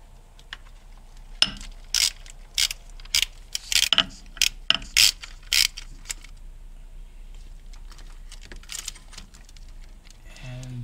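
Ratchet wrench clicking in short, quick bursts on 17mm bolts securing the transmission cooler lines of a 2002 Honda Odyssey, close up in a quiet garage with brief pauses between strokes.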